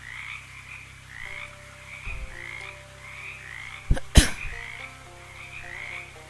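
Frogs croaking in the video game Shadows Over Loathing, a repeating rhythmic ribbit pattern over a low game hum, interrupted midway by two sharp loud thumps, with no voices.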